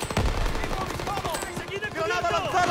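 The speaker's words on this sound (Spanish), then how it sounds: "¿Me vais a seguir disparando a través del humo, dándome sin fallar?" Gunfire from the World War II shooter Call of Duty WWII crackles in rapid bursts, sharp at first and then mixed with someone talking over the game sounds.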